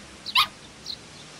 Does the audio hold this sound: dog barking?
yes